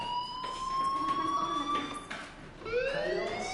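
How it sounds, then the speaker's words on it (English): A steady electronic fire alarm tone rings inside the video game Life Is Strange, holding a sustained pitch before a rising siren-like sweep near the end, moderately loud with no talk over it. "Hey, do you hear that fire alarm?"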